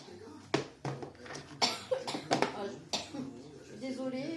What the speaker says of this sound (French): vous risquez aussi d'entendre tousser